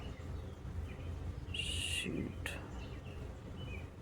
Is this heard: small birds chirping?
yes